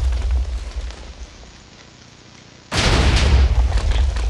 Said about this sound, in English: Just got pushed around by random explosions